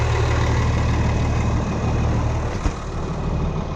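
An old Ford TW25 tractor's diesel engine idles close by, a steady loud low rumble throughout with one brief knock partway through, no talking.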